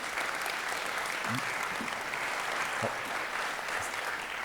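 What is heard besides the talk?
audience applause at a conference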